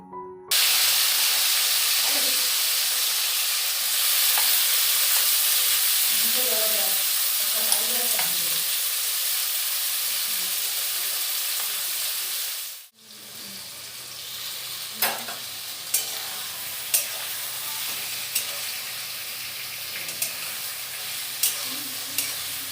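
Washed onions hitting a hot pan for a Bengali basanti pulao and kosha mangsho meal, a loud steady sizzle that cuts off abruptly, then quieter frying with sharp stirring clicks.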